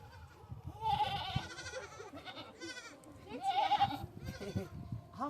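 Goat bleats twice, loud and close, each a wavering cry, with people talking around them in a rural Maithili setting.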